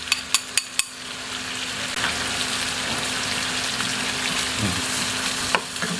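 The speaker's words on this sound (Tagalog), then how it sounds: "Tapos magigisa na tayo ng bawang." Lots of chopped garlic sautéing in a pan of oil for chicken adobo, a steady close sizzle with a few sharp utensil taps at the start and a brief scrape near the end.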